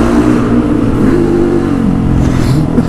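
A small scooter engine revs up and down close by, its buzzing pitch rising and falling steadily for a few seconds with no talking.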